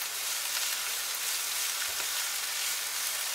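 Parsley being stirred into a frying pan of fettuccine sauce with artichokes and shrimp, a steady close sizzle of frying with no talking.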